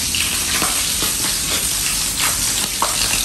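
Rat meat frying crispy in a pan, a dense and steady crackling sizzle with scattered louder pops, close and continuous throughout with no talking over it.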